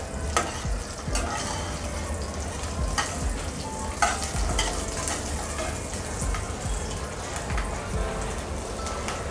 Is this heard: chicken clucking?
no